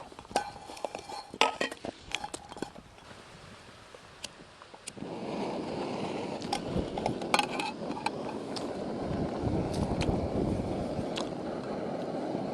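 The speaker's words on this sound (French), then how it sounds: "il y a un peu de vent" Gusty wind buffets the microphone, rumbling louder after a few seconds, with scattered clinks of cookware in the background.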